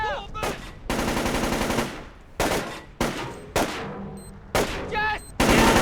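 Gunfire in the 2005 stealth game Splinter Cell Chaos Theory comes as loud, close automatic bursts. Several rapid volleys start and stop abruptly, with brief shouted voices between some of them.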